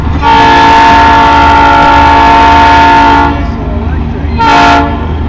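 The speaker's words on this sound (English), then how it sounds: "We got a train coming." A GE engine on the Durango and Silverton line sounds a loud, sustained train horn over the rumble of passing cars, the blast holding for about three seconds before a second shorter horn burst follows, with no talk.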